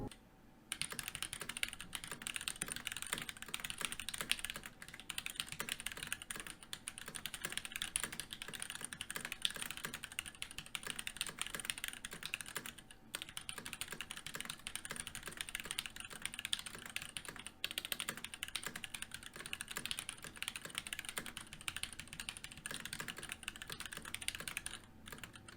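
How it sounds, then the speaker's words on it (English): Continuous typing on a Varmilo VA87MR mechanical keyboard, with steady, dense keystroke clicks that run without a break, close and clear, and no voices. "Here's a sound test of the keyboard."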